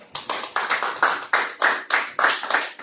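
A church congregation claps together in praise of the Lord, with loud, steady rhythmic claps at about four per second and no voices over them.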